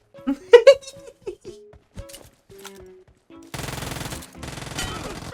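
Gunfire in the mobile shooter PUBG Mobile breaks out as dense, loud automatic bursts in the second half. Earlier, laughter and excited voices come in short bursts over quieter game noise.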